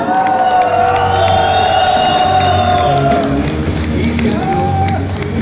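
A large crowd in an arena in Yakutsk gives a loud, continuous ovation for fighters Fedor Emelianenko and Vadim Nemkov, with whoops and shouts over the roar.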